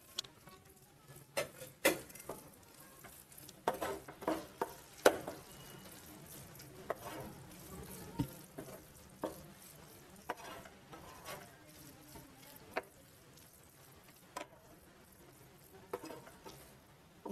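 Okra that was sautéed earlier is stirred into a pan of South Indian buttermilk curry, giving irregular soft clicks and scrapes of a utensil against the pan over a faint low hiss, with no talking.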